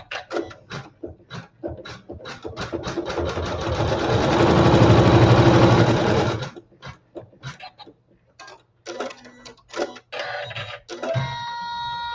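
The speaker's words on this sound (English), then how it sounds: "The raw edges are approximately even with our background fabric, and we'll sew our seam." A sewing machine stitches a seam through quilting fabric: a steady mechanical whir builds over several seconds, then stops, followed by scattered clicks, taps and short bursts of handling.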